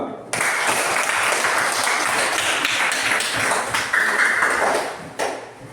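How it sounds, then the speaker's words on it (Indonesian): Classroom applause from junior high students for a presenting group, a loud, busy burst of many hands that starts abruptly, carries on several seconds with small knocks and taps mixed in, and cuts off near the end. "Tepuk tangan untuk kelompok 2."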